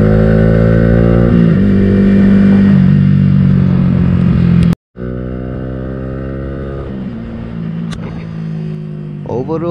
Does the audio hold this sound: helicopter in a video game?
no